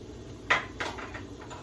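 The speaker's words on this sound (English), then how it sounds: "And then stir it all around." A utensil knocks and scrapes against a pot while rice is stirred with tomato sauce, giving a couple of distinct clinks followed by lighter taps close by over a low steady background.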